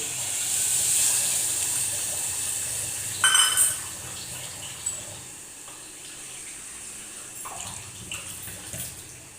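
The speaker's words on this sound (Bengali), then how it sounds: "এবারে আমি এটাতে মশলা যে বাটিটাতে ছিল সেই মশলা ধোয়া বাটির জলটা এখানে দিয়ে দিই।" Rinse water from a spice bowl is poured into a pan of frying potato curry, a gushing splash at first, then a few clinks and light spatters as it settles.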